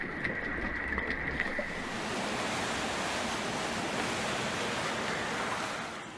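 A steady, full rush of churning water waves, continuous and fairly loud, with no voices.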